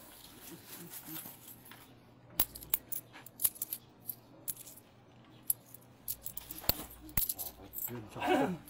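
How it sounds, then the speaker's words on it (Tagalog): Loose coins handled and dropped while change is counted out at a community medical mission in Santa Cruz, Manila, giving a series of sharp metallic clinks and taps with a denser jingle near the end, alongside low background voices. "Mga barya."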